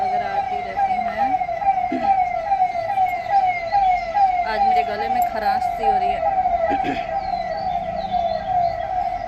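A siren, likely an ambulance, passes along a residential road, wailing loudly and steadily through the whole stretch with a constant tone, while someone talks over it.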